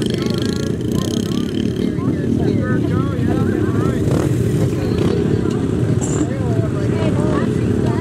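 Pit bike engines rumbling loudly and steadily at a motocross track limbo contest, a continuous motor drone under an excited announcer's commentary and crowd noise throughout.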